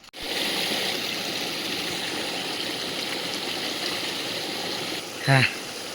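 A river stream near the foot of a hill fort flows in a steady, broadband rush throughout, close and continuous, with a brief louder splash or gurgle near the end.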